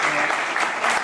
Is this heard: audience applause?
yes